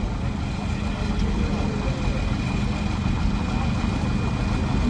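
A Ford tractor fitted with a modified Ford truck engine runs at a steady idle at an outdoor steam show, a constant close low throbbing rumble lasting the whole time with people talking over it.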